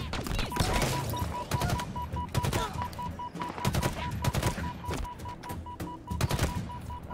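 Battle rifle fire in a Halo campaign played on Legendary difficulty: repeated sharp three-round bursts, close and punchy, coming in a steady rhythm over several seconds with a faint electronic tone underneath.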